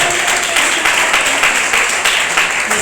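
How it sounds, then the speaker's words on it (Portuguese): A church congregation in Irajá claps steadily through a sermon, a loud, continuous wash of applause with faint rhythmic pulses in it. "Pode bater palmas."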